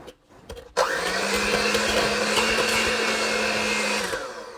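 An electric hand mixer starts with a click and then whirs steadily and loudly, mixing lemon extract into tea cake batter. The motor hum holds for several seconds before it begins to wind down, with no talk.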